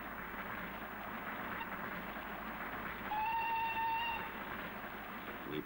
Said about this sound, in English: Drawn by another locomotive,